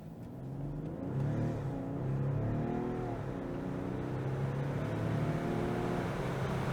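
A BMW X5 accelerating hard from a standstill in a 0-100 km/h test, its engine note rising steadily and loud in the cabin, with no talk over it.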